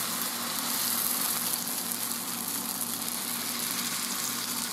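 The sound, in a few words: pancake batter sizzling in a frying pan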